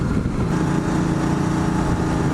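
A Ducati Multistrada 1260S motorcycle engine drones continuously on the road, a loud, steady, rumbling tone with a rich low growl and no voices over it.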